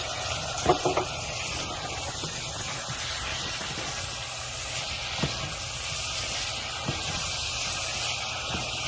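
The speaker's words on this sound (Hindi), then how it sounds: "उसको हमने सॉटे किया। इसमें हमने चिकन डाल दिए।" Boiled chicken sautéing in a pan on high flame, a continuous soft sizzle and hiss with occasional faint clinks of stirring, moderately quiet and close.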